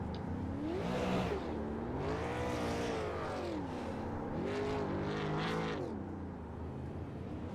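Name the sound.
late model race car doing burnouts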